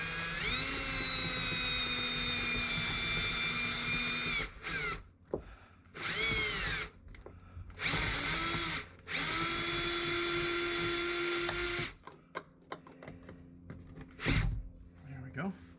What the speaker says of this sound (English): once I start drilling, it's just going to start spinning